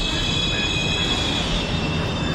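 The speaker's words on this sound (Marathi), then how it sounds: "मेट्रो आलेली आहे." A metro train pulls into a station platform, giving a steady, loud rumble with high wheel and brake whine throughout, and faint voices beneath it.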